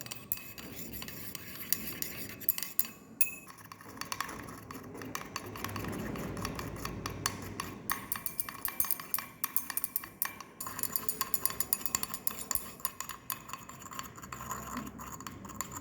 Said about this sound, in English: mixing with a glass stirrer. Sodium chloride solution was made by proper stirring.